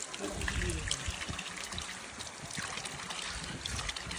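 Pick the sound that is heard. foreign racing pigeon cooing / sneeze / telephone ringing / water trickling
water trickling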